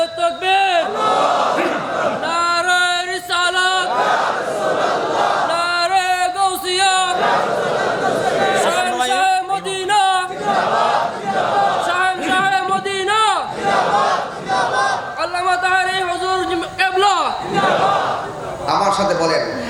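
A crowd at an Islamic religious gathering loudly chants the responses to the slogans Nara-e-Takbir and Nara-e-Risalat, coming in repeated strong collective bursts with brief gaps between them, led by a voice over a microphone.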